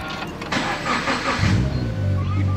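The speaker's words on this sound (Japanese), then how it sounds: "でエンジンをかけてみます。" A turbocharged Toyota 86 GT's engine cranks briefly, then catches and settles into a steady low idle, heard up close.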